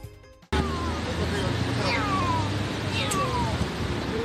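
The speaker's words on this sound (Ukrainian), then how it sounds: "Працівники ДСНС врятували кошеня." A frightened kitten stuck up a tree meows repeatedly in rising, drawn-out cries during a rescue by emergency workers, loud and close over steady outdoor background noise.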